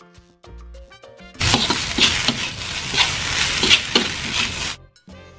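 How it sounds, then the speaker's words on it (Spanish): Nasi goreng fried rice with sweet soy sauce is stir-fried in a hot pan, making a loud, close burst of sizzling and scraping stirring that lasts a few seconds between quieter stretches of music. "después salteamos y mezclamos todo muy bien"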